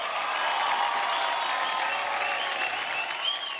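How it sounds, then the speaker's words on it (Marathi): A studio audience at a Marathi TV show claps loudly and evenly throughout, a dense, sustained round of applause heard up close. "मंडळी जोरदार टाळ्या."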